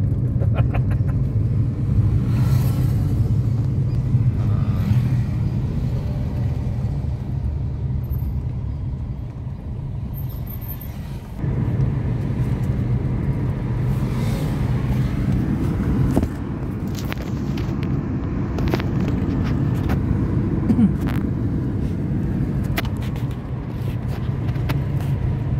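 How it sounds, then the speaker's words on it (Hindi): A car drives along an empty road in Delhi, its steady low engine and tyre rumble continuing without a break, with a brief dip near the middle and faint ticks and knocks above it. "देखो भाईजान गाड़ी चला रहे हैं बढ़िया ढंग से"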